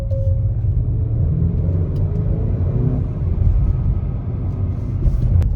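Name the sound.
2021 Acura RDX engine revving in Sport Plus mode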